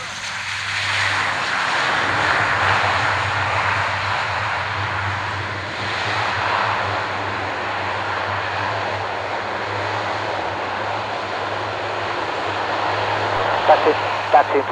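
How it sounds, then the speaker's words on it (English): A jet aircraft comes in to land and touches down right in front of spectators at the Royal International Air Tattoo air show, a loud sustained engine roar with a low steady rumble that swells and slowly fades, with a few brief knocks near the end. "Touchdown right in front of the public, and now the touchdown."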